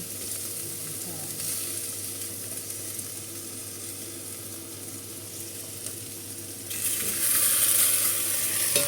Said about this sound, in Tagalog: Ihulog natin isa-isa ang ating mushroom.